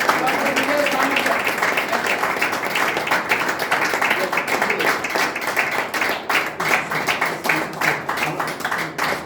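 Loud, sustained applause from an audience at a health awareness program, dense clapping filling the whole stretch as a speaker is welcomed, with some voices mixed in.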